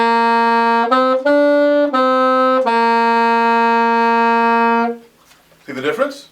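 Saxophone playing a short phrase in which a quarter note is tied into the following eighth note, sustained clear tones with a few articulated note changes, close and solo, followed by a brief spoken voice.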